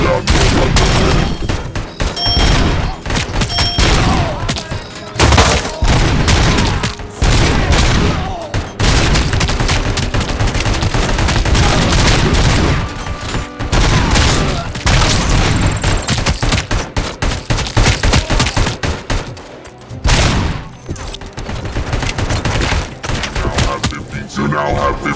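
Heavy, near-continuous gunfire in RoboCop: Rogue City, loud volleys and booming shots layered into a dense barrage, with voices talking over parts of it.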